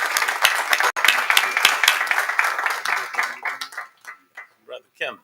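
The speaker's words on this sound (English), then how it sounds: "let's give him a huge round of applause before you hear this" Audience applause at a Southern University Board of Supervisors meeting, a dense burst of clapping that thins out and fades over a few seconds, ending in a few scattered claps and a brief voice.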